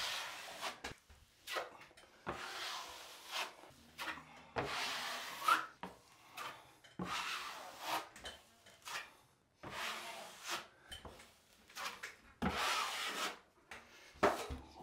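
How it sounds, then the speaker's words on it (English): A drywall knife scrapes mud over screws on a wall in a series of rhythmic swipes, each a raspy scrape followed by a short pause, close and fairly quiet. "So I'm just going to mud this side of the wall. I'm going to go over your screws again."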